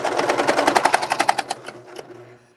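Janome sewing machine stitching fast, a quick even run of needle clicks for about one and a half seconds, then slowing and stopping with a faint whir trailing off.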